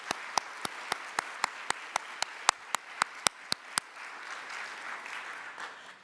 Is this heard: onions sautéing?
no